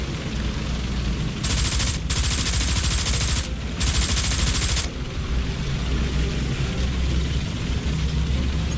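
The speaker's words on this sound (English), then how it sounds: "I'm shooting these trees out my way now" Tank cannon and gunfire in War Thunder shooting down trees, a dense run of loud rapid bursts with two brief pauses, over a constant rumbling engine drone that carries on after the firing stops.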